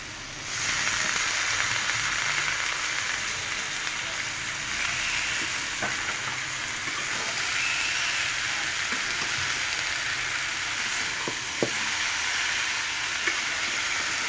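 Bitter gourd and two cut potatoes with chopped green chilies sizzling steadily in a hot pan, with a constant hiss and occasional faint clicks of stirring.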